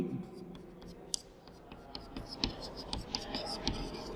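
A teacher writes out a physics definition on a board. Irregular scratchy strokes come up close, with a few sharper taps, over a faint murmur in the background.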